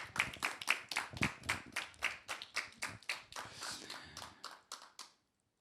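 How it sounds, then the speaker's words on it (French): A small audience gives a short round of applause at an arts-project event, made of distinct, fairly sparse claps close by, fading out after about five seconds with no talking. "Vous allez vous applaudir"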